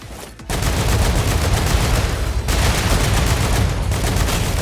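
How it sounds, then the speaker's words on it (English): Rapid automatic gunfire from weapons in the video game StarRupture, a loud, continuous stream of overlapping shots starting abruptly after a brief pause, with a momentary dip midway before the barrage continues close and dense. "If you fire enough bullets"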